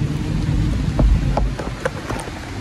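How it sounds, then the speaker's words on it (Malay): Steady rain falling at night outside an abandoned hotel, a constant broadband hiss with scattered heavier drips and taps standing out, no voices. "Dan keadaan hujan."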